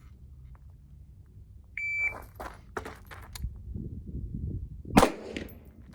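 A shot timer gives a sharp electronic beep, then rifle fire rings off a steel KYL target rack outdoors, the shots sounding moderately loud with a bright metallic crack near the end.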